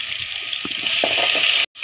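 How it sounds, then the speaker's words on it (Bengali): Sliced onions dropped into hot oil and frying in a pan for a chicken curry, a close, steady watery hiss with soft scraping knocks, cut by a brief silence near the end. "এখানে আমার সবগুলো পেঁয়াজ দিয়ে দিল।"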